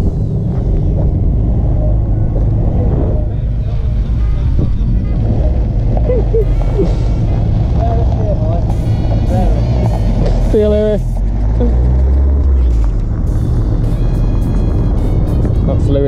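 A rare Abarth car pulls away from an enthusiasts' meet at a gliding club, its engine a steady close rumble that lasts throughout, with people chatting over it.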